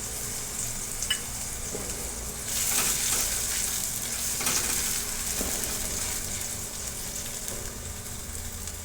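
Cumin seeds fry in hot oil in a pan with a steady, close crackling sizzle that swells into louder spitting bursts a couple of times, with no talking.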